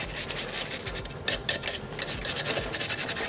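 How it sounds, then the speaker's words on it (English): A stiff, long-bristled brush scrubs degreaser-soaked bicycle jockey wheels, a dense, continuous rasping scratch in quick back-and-forth strokes, loud and close. "Give them a good scrub while you've got all that degreaser on them."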